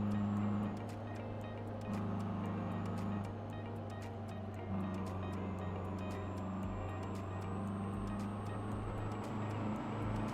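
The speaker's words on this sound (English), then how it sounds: "I mean, the truck engines are quiet." Quiet truck engine in an online truck-driving game convoy, a low, steady drone with a constant hum that runs unbroken and fairly loud throughout.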